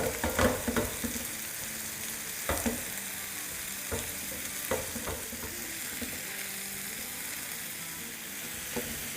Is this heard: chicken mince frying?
yes